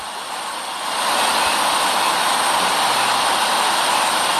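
Simulated Boeing 737-700 jet engine in the GeoFS flight simulator game, with a malfunctioning engine, gives a steady loud whooshing roar that swells after the first second and then holds constant, with no talking.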